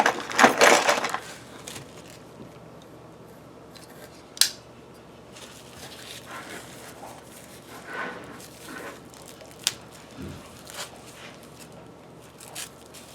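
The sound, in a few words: cutting with a knife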